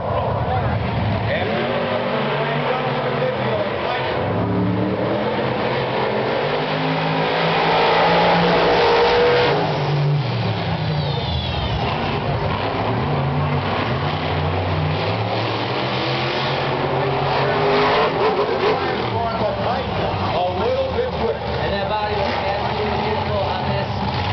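Monster Jam trucks, including Hot Wheels Firestorm, racing in a Monster Jam Fox Sports 1 Championship Series event, engines roaring and revving loudly and continuously, with crowd noise and an announcer talking over them.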